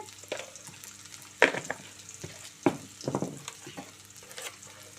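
Chopped ivy gourd pieces fry in a pan with spices, soft sizzling broken by scraping and clattering stirs of a spatula at irregular moments, close and fairly quiet with no voices.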